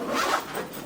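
Zipper pulled on a roller skate case, one quick rasping zip, close and clear, with no talk.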